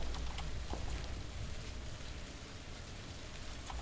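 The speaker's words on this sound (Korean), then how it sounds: "빗소리를 좀 이용하면서" Steady rain from a PUBG Battlegrounds match, a constant dense hiss of falling drops that fills the whole clip at an even level with no voices over it.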